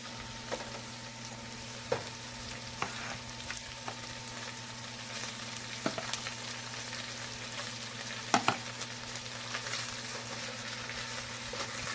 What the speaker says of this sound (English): I'll be adding two green chilies, as you can see, and I will be adding rice